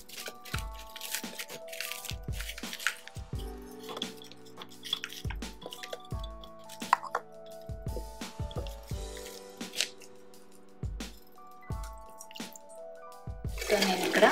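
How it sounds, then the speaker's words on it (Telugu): Water draining out of partly cooked rice, about 70% done, while making veg dum biryani in a home kitchen, heard as close, intermittent splashes and drips over a running musical backing. "రైస్ లోంచి వాటర్ మొత్తం డ్రైన్ చేసేస్తున్నాను."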